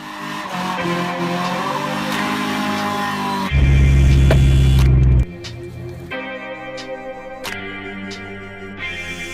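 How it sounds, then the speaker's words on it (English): A Mercedes-Benz car engine roars loudly and tires squeal as the vehicle accelerates hard, with a burst of heavy low rumble mid-way, over music. "I'm gonna go take this car for a rip."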